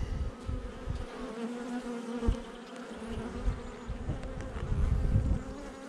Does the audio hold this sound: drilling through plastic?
no